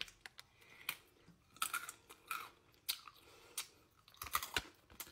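Crunchy bites and chewing of spicy Dynamita Doritos tortilla chips, close and fairly quiet, in irregular bursts of crackly crunching with short pauses between bites, no talking.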